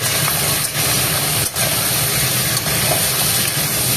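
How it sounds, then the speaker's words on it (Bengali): Desi chicken frying in a pan makes a loud, dense hissing sizzle that runs continuously up close, with brief dips as the pieces are moved. "ফ্রাই হচ্ছে"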